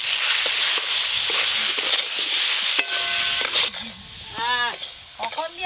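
Potato and radish stir-fried with mustard paste, dried red chilli, turmeric and salt in a home kitchen, a steady sizzle with scraping stirs that thins midway, followed by bird calls in the background.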